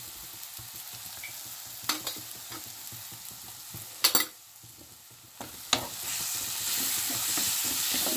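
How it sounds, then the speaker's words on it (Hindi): Onion and spice masala of red chilli, turmeric and coriander being stirred as it fries in a pan, a steady close sizzle with scraping stirs and a few sharper spoon knocks, no talking. "भुनने देती हूँ थोड़ा सा मसाला"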